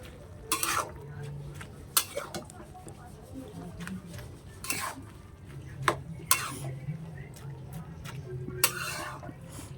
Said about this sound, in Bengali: দেখতেই পাচ্ছ, এভাবে নাড়াচাড়া দিতে হবে।